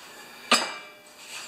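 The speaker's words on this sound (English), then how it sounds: "I'm just gonna hammer that down." Single sharp metallic strike from hammering down a torn snowblower auger on a John Deere TRS 24, close and loud, ringing briefly before fading into quiet workshop air.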